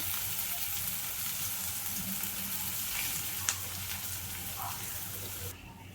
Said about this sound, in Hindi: मैंने यहाँ पे बिल्कुल कम ऑयल का इस्तेमाल किया है, आप चाहे तो इसे पूरी तरह डीप फ्राई भी कर सकते हैं।